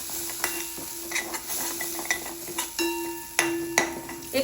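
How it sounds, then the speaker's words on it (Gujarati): Fenugreek leaves sautéing in oil in a pan, with a soft sizzle under repeated scraping strokes and light metallic clinks of a spoon against the pan, close by and with no talking. "પાંચ મિનિટ એને આપણે તેલમાં સોટે કરી લઈએ"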